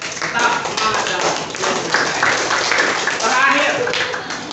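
A classroom of seventh-grade students applauds during a civics quiz, a burst of scattered clapping lasting a few seconds, mixed with voices and chatter.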